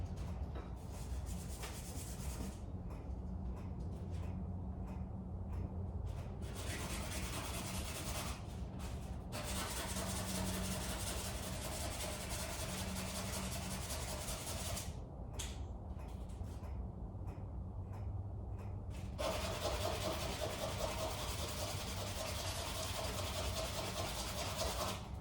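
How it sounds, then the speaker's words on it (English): Wooden block of a small Native American flute sanded by hand, a steady close rubbing scrape that runs continuously with brief pauses and changes in stroke pressure, no talking. "So I'm going to sand it down to fit it just a little bit better."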